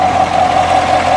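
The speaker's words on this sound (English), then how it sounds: "That's the engine." A Chevrolet Corvette Stingray engine runs at a steady idle, a loud continuous hum with a low throb, close by and without voices.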